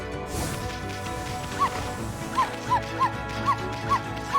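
Several short, chirpy barks from a small cartoon dog in the video game Okami, spaced irregularly over a steady background music bed, fairly close and moderately loud, with no talking.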